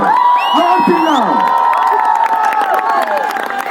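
An audience at the National School of Drama cheers, whoops and shouts loudly and continuously, a dense crowd roar with rising and falling voices that fills the room.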